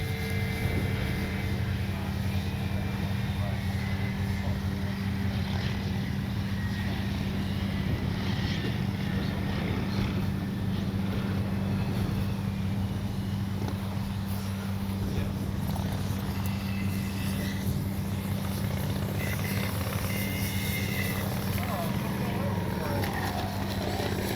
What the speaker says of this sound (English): I can hear that motor whining